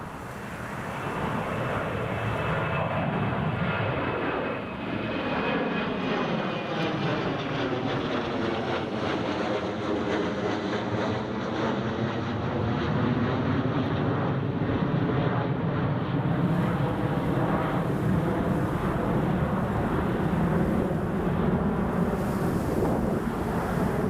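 Airliner taking off at Newcastle Airport during Storm Isha, a loud roaring engine rumble that sweeps in pitch as it passes, heavy wind buffeting the microphone throughout.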